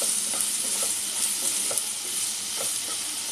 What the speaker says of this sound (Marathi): आता मी मिरच्या टाकते आहे. मी चार मिरच्या बारीक चिरून घेतलेल्या आहेत.